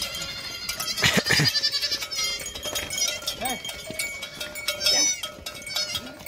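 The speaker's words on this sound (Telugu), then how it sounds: "మేకలు కూడా వచ్చేసినాయి. పిల్లలు వాటితో కలిసిపోతున్నాడు, తల్లిని లెంకుంటున్నాయి" A herd of goats and their kids bleat nearby in a rural homestead setting, with several overlapping cries, some loud and close and others thin and higher, coming in uneven bursts.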